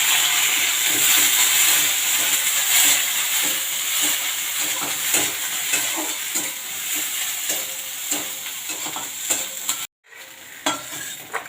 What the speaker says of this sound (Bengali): পটলগুলো একটু হালকা ভেজে নেব।